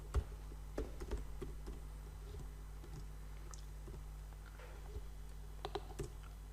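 Soft, scattered keystrokes on a computer keyboard while Java code is entered in the Eclipse editor, irregular clicks over a steady low hum, fairly quiet and unhurried.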